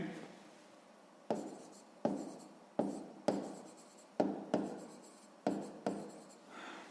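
Pen writing out a sixth-grade math exercise solution on paper, a series of short scratchy strokes starting in bursts with brief pauses between them, close and fairly quiet, with no talking.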